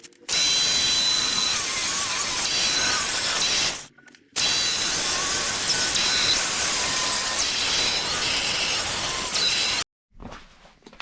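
Power tool grinding slots into the holes of an engine manifold for a 2JZ-GTE swap, a loud sustained harsh whine in two long runs separated by a brief pause, then stopping.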